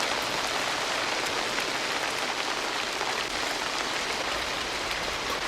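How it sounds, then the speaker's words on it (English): Steady rain pours onto wet mud in a jungle war film scene, a dense, even hiss of drops at constant loudness with no talk over it. "Dude, sleeping in the rain on the wet mud."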